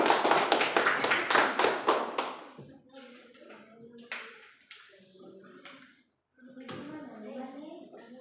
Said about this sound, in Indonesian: Silakan tepuk tangan untuk kelompok 2 dulu.